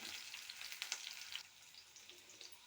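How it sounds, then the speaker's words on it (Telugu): Mustard seeds, dried red chillies, onion, garlic and cumin frying in hot oil in a kadai, a bright, close hiss of sizzling with a few crackles and stirring scrapes, quietly recorded with no talking. "ఆయిల్ వేసుకొని వీడి చేసుకోవాలి ఆవాలు ఎండుమిర్చి ఆనియన్ వెల్లుల్లి జీలకర్ర"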